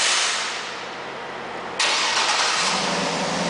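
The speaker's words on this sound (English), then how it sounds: "I just hit the power lock on the remote right here to demonstrate the remote start." A 2009 GMC Yukon Denali SUV engine cranks by remote start and catches partway through, then settles into a steady close idle.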